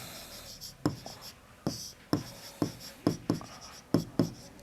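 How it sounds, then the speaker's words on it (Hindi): Chalk or marker writing on a board during a maths lesson, a series of about eight sharp tapping strokes with short scratchy trails, close and irregularly spaced, with faint room noise between them. "यहाँ लिख देता हूँ"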